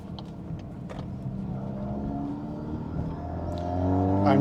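VW Golf R Mk8 engine humming steadily from inside the cabin while cruising, then swelling louder in the final second as the car accelerates, with faint clicks over the top.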